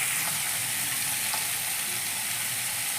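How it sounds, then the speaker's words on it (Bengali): Spiced fish frying in a hot pan with potatoes and onions as a little water goes in, giving a steady, even sizzle throughout with no voices. "আর এই বাসনটা ধুয়ে জাস্ট একটুখানি জল দেব।"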